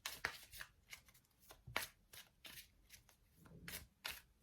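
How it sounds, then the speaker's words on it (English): Tarot cards shuffled by hand in a series of crisp riffling and slapping bursts, fairly close and quiet, with no talk over them. "let's shuffle the cards a little bit more."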